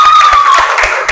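A classroom of pupils clapping their hands together at a lesson, a quick run of sharp rhythmic claps heard up close, with a faint voice mixed in.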